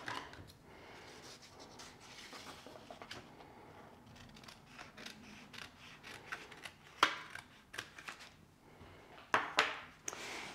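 Scissors cut through a paper swimsuit sewing pattern, with soft snips and paper rustling that come in quiet bursts and grow into sharper cuts near the end, close up, with no talking.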